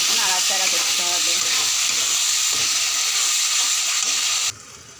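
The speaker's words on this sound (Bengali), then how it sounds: "1 চামচ লঙ্কার গুঁড়ো দিয়ে ভালো করে নাড়াচাড়া করতে হবে" Salt, turmeric and chilli powder are stirred into hot oil in a pan, a loud continuous frying hiss with rhythmic spatula scrapes at the start, close and unbroken until it stops abruptly.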